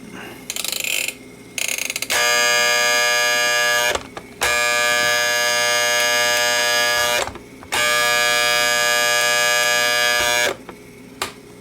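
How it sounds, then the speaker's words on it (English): The electric alarm buzzer of a vintage Sankyo Seiki mechanical digital clock rings loudly in three long bursts, about two to three seconds each, with brief gaps between them over a low mechanical hum. "doesn't shut the alarm off though"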